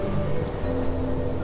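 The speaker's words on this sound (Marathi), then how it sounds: "वेळानंतर गावामध्ये पाऊस यायला सुरू होतो." Rain falls on a village as a story sound effect: a dense, steady hiss of downpour that stays even and fairly loud throughout, with no voices.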